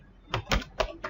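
Four quick separate clacks of a computer keyboard as someone types, close and fairly quiet, with no talking.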